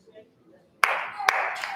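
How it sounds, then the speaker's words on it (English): A small youth-group audience starts clapping in a short round of applause after near silence, with a few distinct louder claps over a brief burst of hand-clapping. "give her a round of applause, please"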